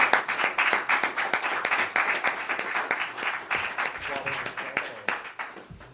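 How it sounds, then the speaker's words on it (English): An audience applauds student presentations at a conference, giving six seconds of vigorous, dense clapping with sharp individual hand claps that slowly taper toward the end, close and loud, with a little voice underneath. "So let's have a round of applause for all of them."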